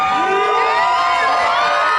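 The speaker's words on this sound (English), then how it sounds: "So you see all of these people who are cheering you on." A graduation ceremony audience cheering and shouting, a dense, steady roar of many voices with whoops and children's yells, loud and continuous throughout.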